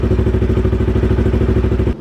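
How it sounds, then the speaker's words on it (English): A Yamaha R3 motorcycle engine idles steadily nearby, with an even, rapid mechanical pulsing and clatter that continues throughout and cuts off at the very end. "let's go ahead and turn on the bike and then let it run for a little bit"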